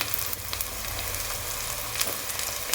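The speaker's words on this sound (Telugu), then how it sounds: "అల్లం వెల్లిపాయ పేస్ట్ కూడా మంచిగా మగ్గింది ఇప్పుడు ఉప్పు కారం వేసుకోవాలి" Ginger garlic paste sizzling in a pan with salt and chili just added, a continuous crackling fry with a few brief stirring scrapes, close and alone without speech.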